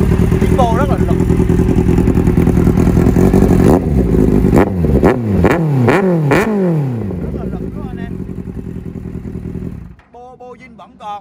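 Kawasaki Z800 four-cylinder motorcycle with an aftermarket exhaust revving hard, a loud idle broken by a series of sharp rising throttle blips before the engine cuts off, with someone talking over it.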